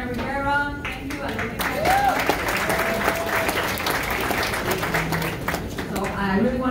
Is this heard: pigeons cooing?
no